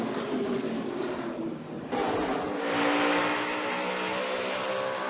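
Stock cars race at Phoenix in a NASCAR event, engines roaring loud and close as the pack sweeps through a corner, the pitch shifting sharply as cars pass, with a steady howl continuing afterward.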